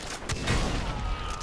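Gunfire crackles in a cooperative Far Cry 3 session, a dense, moderately loud burst of shots and booms rolling over a noisy battle background.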